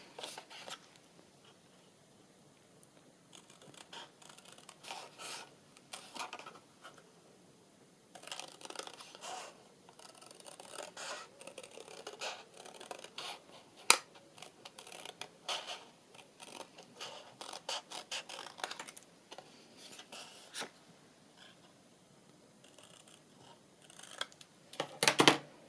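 Scissors snip through paper along a pencil line, producing bursts of short, close crisp cuts that pause and resume, with no talk over them.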